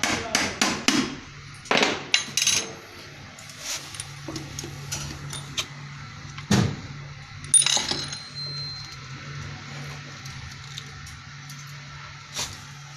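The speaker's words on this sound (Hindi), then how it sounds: "पेचकस से हम ये थोड़ी सी अगर छेनी है तो उससे आप ठोकर लगा के ये खोल सकते हैं" A chisel or screwdriver is struck to loosen a part of a donkey pump under repair, giving sharp metallic taps in irregular clusters with quieter clanks between.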